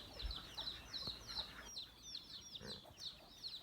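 Muscovy and laying ducks on a farm give repeated short, bright calls in an irregular string over a soft background hum, fairly close and moderately loud.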